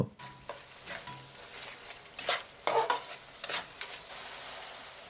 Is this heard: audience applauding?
no